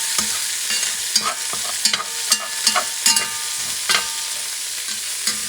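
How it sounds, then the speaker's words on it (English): Chicken stew with yellow onion and turmeric sautéing in a pan over medium-high heat, with a steady low sizzle broken by a dozen or so sharp spoon scrapes and stirs at uneven intervals, close and fairly loud. "let me saute this for about 3 minutes"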